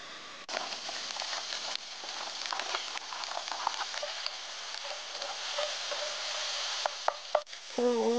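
Shrimp stir-fry in a teaspoon of oil in a pan, giving a steady close sizzle with scraping and stirring clicks. A brief voice or tone comes near the end.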